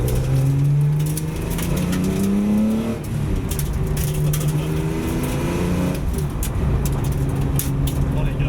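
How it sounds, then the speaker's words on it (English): A road-registered 1979 Datsun 280Z track car drives steadily with a loud engine drone and road noise, while small gritty ticks and clicks of stones patter against the soft tyres throughout. "You can hear all the stones picking up on the soft tyre."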